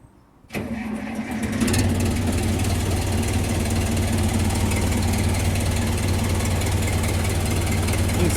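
A Case 580B backhoe's diesel engine cranks and catches almost at once, then settles into a loud, steady, close running rumble, with no talking.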